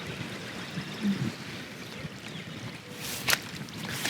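Soft, steady trickle of water running outdoors, a low continuous wash with a brief brighter splash near the end.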